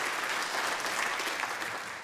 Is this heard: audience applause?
yes